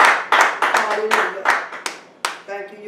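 A small congregation claps hands in praise during a church service, a run of sharp, uneven claps close by with a voice or tones briefly mixed in near the end.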